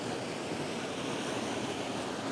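A waterfall rushes with a steady, broadband roar that stays constant and full throughout, close and loud with no voices.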